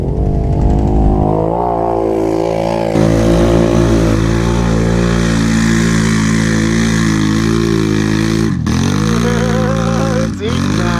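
Polaris Sportsman HighLifter 1000XP ATV fitted with racing cams, its engine revving hard and holding high, loud and close, with two sharp dips where the throttle drops off before climbing again.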